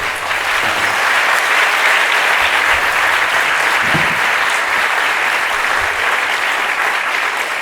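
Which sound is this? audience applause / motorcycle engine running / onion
audience applause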